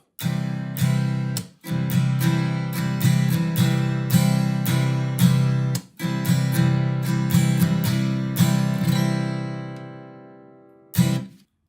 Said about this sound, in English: So now if I play this strumming pattern for you